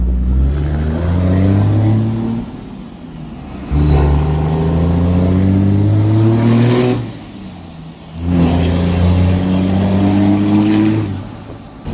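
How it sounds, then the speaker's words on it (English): A 600hp Cummins diesel service truck revs up hard as it pulls out, in three loud surging bursts separated by brief dips as it shifts, the engine close and dominant with no talking. "I will rev it a little higher sometimes to make it not smoke"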